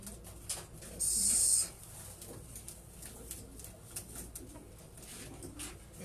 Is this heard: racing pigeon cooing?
yes